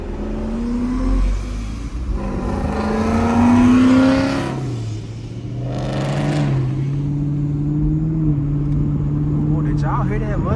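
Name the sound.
Ford Mustang engine revving in street traffic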